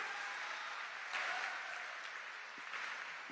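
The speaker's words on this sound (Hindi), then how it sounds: "अवनीश जी खातिर को जोरदार ताली, जोर से" Sustained applause from an audience at the opening of a book festival at a university in Gorakhpur, a steady dense wash of clapping, fairly faint and alone without talk.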